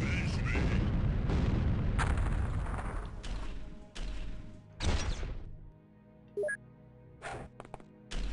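Grenade blast in the turn-based strategy game OpenXcom with a Warhammer 40k mod, a heavy booming explosion with rumbling low end and debris, followed by scattered game effects, under a voice talking.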